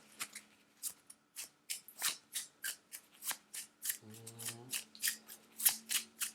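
Cards from the board game Cavern Tavern being handled and shuffled on a table, a quick run of crisp flicks and riffles close by, with a short low hum partway through.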